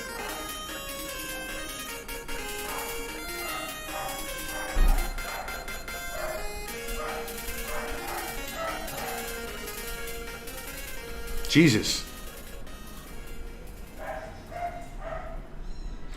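A small dog barks indoors in a few sharp yips and bursts, sounding a short way off over a steady background, with one louder close bark standing out; a man briefly mutters.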